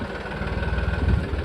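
A Massey tractor engine idles with a steady, low rumbling throb after starting on its self-starter, close and even, without voices.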